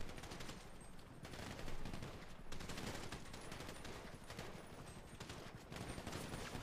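Dense, rapid gunfire from a video game shooter rattles in continuous bursts, machine-gun fire layered with scattered shots, heard alone without talk.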